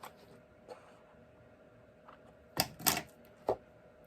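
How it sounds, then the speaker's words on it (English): Scissors trim a thin strip off paper cardstock during card-making. A few crisp, close snips are heard, with three sharp cuts bunched near the end and quiet room tone between them. No one speaks. "I'm just going to take my scissors and I'm just going to trim this top part down just about very little"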